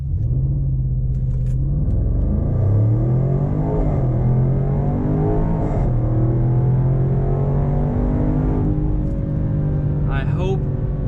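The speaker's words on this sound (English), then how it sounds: "I hope you got a good earful of the exhaust note right there" The V8 exhaust of a Land Rover Range Rover Sport rumbles deeply and climbs in pitch as it revs up under acceleration, loud and close, then settles into a sustained drone.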